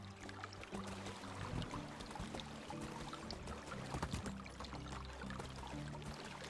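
Creek water flowing in the video game Medieval Dynasty, a soft continuous babbling and trickling wash heard alone at low volume.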